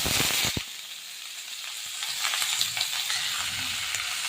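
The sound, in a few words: onions sautéing with fenugreek, garlic and ginger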